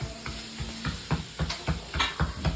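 Semolina roasts in ghee with banana already in the pan, stirred with quick, regular scraping strokes against the pan over a soft background sizzle, moderately quiet and with no voices.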